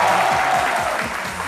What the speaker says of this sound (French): Merci de vous applaudir très fort